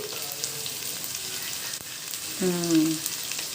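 Chili powder hits hot oil in a goat curry, giving a steady, close sizzle with a brief stirring scrape partway through.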